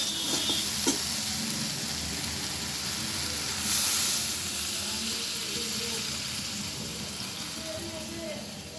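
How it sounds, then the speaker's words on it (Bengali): A constant, broad sizzle and hiss comes from water poured into fried spice paste for a bottle gourd curry, with steam rising in a brief swell midway. No one talks over it. "মশলাটা আমার কষানো হয়ে গেছে, আমি এবারে জল দিয়ে দিচ্ছি।"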